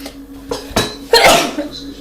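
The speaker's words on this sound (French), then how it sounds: "La preuve, j'éternue." A woman gives a single sharp sneeze after a few faint knocks and clatters, close and fairly loud.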